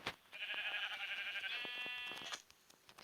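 A sheep in the video game Minecraft gives one long, wavering bleat lasting about two seconds, clear and alone over faint background clicks.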